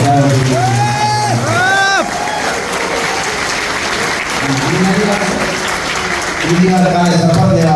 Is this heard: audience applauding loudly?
yes